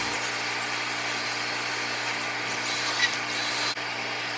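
Steady, unbroken whir of a drill spinning a scrub brush over a car seat's upholstery while detailing a very dirty old car interior, loud and close with no talking.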